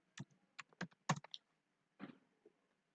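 Quiet clicks of typing on a computer keyboard, a short burst of several keystrokes followed by a brief pause and a few more taps, close and isolated.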